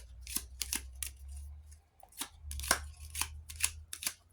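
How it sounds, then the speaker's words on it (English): Card shuffling close by, a board game deck: a series of crisp, papery riffles and snaps repeating in quick bursts, with a low hum underneath. "we're going to shuffle"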